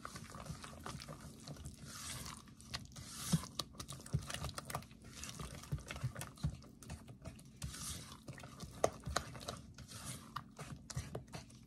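Banana bread batter for a light pumpkin banana loaf being stirred in a bowl makes soft, rapid, rhythmic tapping and scraping, quiet and close, with no talk.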